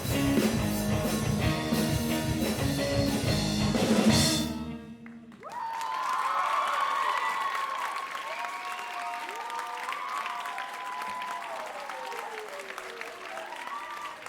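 A school contemporary band from a senior high school finishes playing at a Rotorua concert, and audience applause rolls in, loud and sustained at first before fading, with clapping continuing under later sounds.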